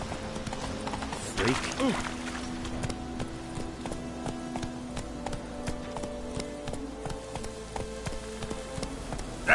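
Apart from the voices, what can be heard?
horse galloping hooves in The Witcher video game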